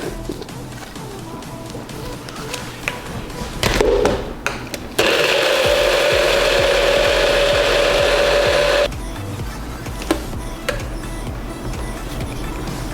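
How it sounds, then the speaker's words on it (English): Almond milk and shake ingredients are blended in a blender: a loud, steady motor whine runs for about four seconds between short bursts, with clattering and handling noise before and after. "Now I'm gonna blend all the ingredients together."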